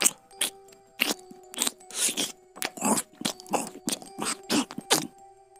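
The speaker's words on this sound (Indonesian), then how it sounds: "Seperti seorang tengah mengunyah dan menimbulkan suara yang mengganggu." Wet chewing and smacking as a sound effect, with about a dozen sharp crunchy bites and mouth clicks coming in uneven bursts, close and fairly loud against silence.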